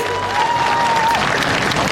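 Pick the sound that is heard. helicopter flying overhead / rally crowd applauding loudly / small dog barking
rally crowd applauding loudly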